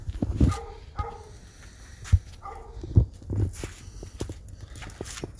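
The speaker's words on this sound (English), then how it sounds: "Those aren't even the actual neighbor's dogs. Those are the ones that are like a couple houses away." Neighborhood dogs a couple of houses away bark in the distance, a few faint separate barks spaced over several seconds against quiet outdoor background.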